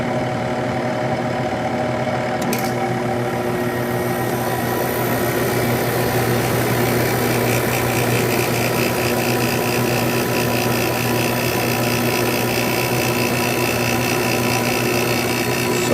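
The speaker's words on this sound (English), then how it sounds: "let's turn the temperature down and start the compressor" A window air conditioner compressor starts up in a room, giving a steady, fairly loud mechanical hum with a buzzing tonal drone that holds evenly throughout.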